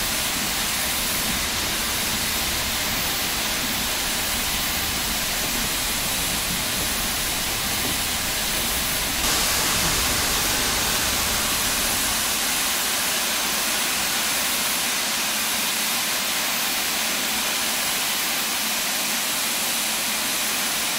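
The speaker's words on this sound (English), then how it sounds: "So this is the other engine, the other steam engine. Oh, we're moving backwards." A steam locomotive reversing through snow in Train Sim World makes a continuous loud hissing roar of steam and running noise that brightens slightly partway through, with no talk.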